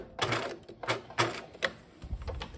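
A sewing machine back-stitches a lining seam on a backpack in a run of short, close bursts of stitching with brief pauses between them.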